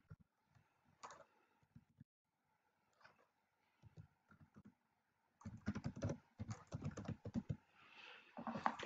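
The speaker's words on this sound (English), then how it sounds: "you type the session name" Someone types a session name into a text box on a computer keyboard while setting up a Blackboard Collaborate session. A few scattered keystrokes come first, then a denser burst of close, clicky typing with short pauses.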